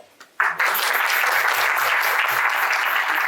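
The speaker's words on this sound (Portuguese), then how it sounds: "vou apresentar os sopros aí, um aplauso geral" Full-room applause at a choro music workshop recital, bursting in suddenly after a couple of isolated claps and holding loud and steady to the end.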